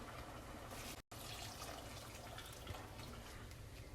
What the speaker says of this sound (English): So we're gonna add more water.